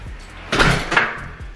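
A door in a home entryway is opened or closed, giving a solid thud followed by a second knock-like impact about a third of a second later, close and fairly loud with no speech.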